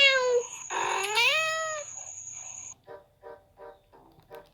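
A cat meows loudly and close, one long drawn-out call followed by a series of shorter, softer rhythmic sounds.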